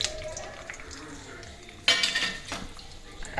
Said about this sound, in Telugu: శనగపప్పు, మినప్పప్పు, ఆవాలు, జీలకర్ర కలిపి వేస్తున్నాను.